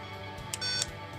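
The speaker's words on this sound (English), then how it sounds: "the car's going to make a little beep" A Carrera slot car gives two short, bright electronic beeps during ghost car setup after the lane change button is pressed on a controller, closely spaced and fairly clear over a low background hum.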